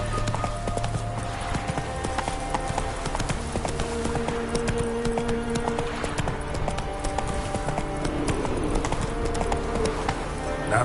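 Hooves of Roach, a horse in The Witcher 3, pounding in a quick, rhythmic clip-clop gallop, close and steady throughout over game music and ambience.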